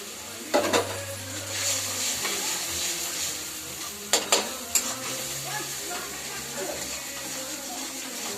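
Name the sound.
spice mixture sautéing and being stirred in oil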